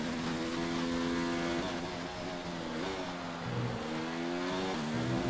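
Formula 1 race car engine in the F1 2019 video game, lapping the Mexican Grand Prix circuit: a loud, continuous high-pitched whine that rises and dips with gear shifts and throttle, with no voices.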